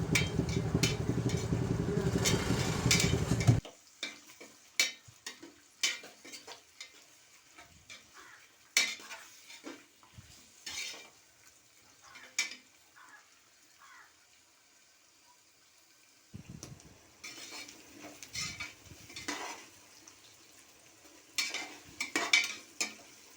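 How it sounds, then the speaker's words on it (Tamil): Loud frying sizzle of onions for a few seconds, then quieter scraping and clinking of a spoon stirring in a pot for vegetable biryani, with intermittent sizzling bursts. "நல்லா கிண்டி விடுவோம் நல்லா பொன்னிறமாக வதங்க வரதையும் கிண்டி விடுவோம்"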